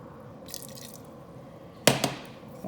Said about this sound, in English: Boiling hot water, I've got 500 milliliters here. I'm going to add in 250 mils first